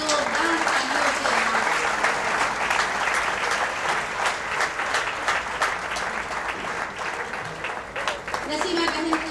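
A large audience at an awards ceremony applauding loudly and steadily for several seconds, dense clapping throughout, with a voice speaking over it.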